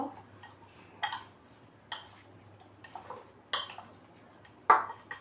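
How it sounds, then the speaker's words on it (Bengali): A metal spoon clinks and scrapes against a bowl while mixing spiced watermelon with chaat masala, five or six separate close taps and scrapes spaced about a second apart in an otherwise quiet kitchen. "ভালো করে চামচ দিয়ে একটু নেড়ে নেব"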